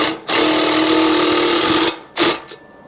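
A bolt being run into a motorcycle exhaust thread on a CB360 two-into-one build, heard as a loud, close, steady whirring grind for about two seconds and then a second short burst.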